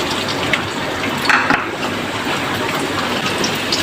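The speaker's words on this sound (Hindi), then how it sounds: "प्याज को हम थोड़ा सा फ्राई करेंगे।" Chopped onions frying in oil in a pan for a smoked chicken curry, a loud, steady sizzle and hiss that fills the space without pause and with no voices.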